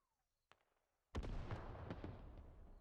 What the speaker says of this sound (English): So, first artillery shells, ranging shots are coming in.